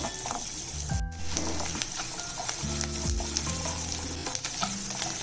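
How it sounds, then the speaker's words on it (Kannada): Ginger fries in oil in a pan for a restaurant-style egg curry, giving off a continuous close sizzle. Occasional stirring scrapes and clicks come through, along with a faint low hum in the background and no talking. "ಇದನ್ನ ಹಾಕೊಂಡು ಚೆನ್ನಾಗಿ ಫ್ರೈ ಮಾಡ್ಕೋಬೇಕು."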